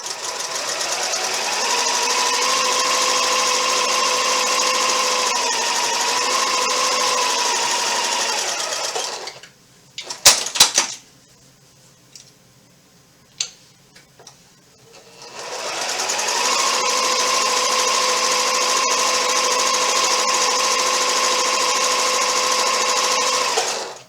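A sewing machine stitches along marked lines on an Ohio Star quilt block, running in two long, steady, loud whirring bursts of about nine seconds each, separated by a quiet gap with clicks and fabric handling.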